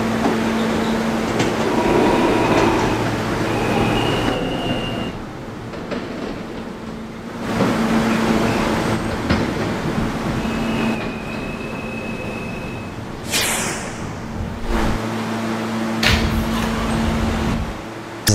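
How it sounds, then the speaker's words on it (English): A D subway train carries riders along Fifth Avenue with a steady rumble and rattle of railcars, occasional wheel squeal and tonal whines, and brief dips as it slows between stops. "This is the Catalan bound D train"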